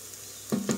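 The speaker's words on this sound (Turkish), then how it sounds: "soğanım kavruluyor." Onions sautéing in a pan for a dried bean stew give a soft hiss, then two quick stirring scrapes with brief louder sizzling, close and alone.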